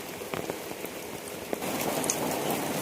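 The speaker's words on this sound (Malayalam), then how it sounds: "ഇവിടെ ഭയങ്കര മഴ കേട്ടോ" Heavy rain pouring steadily outdoors at a rural Kerala home, a dense continuous hiss of drops on surfaces with a few louder spatters, growing heavier partway through.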